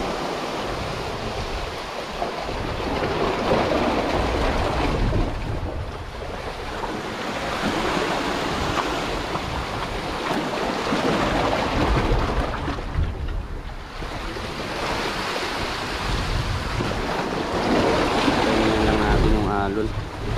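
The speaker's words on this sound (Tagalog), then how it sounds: "alon." Sea waves surging and washing along a rocky shore during lure fishing from the rocks, a steady loud wash with wind buffeting the microphone and voices speaking over it.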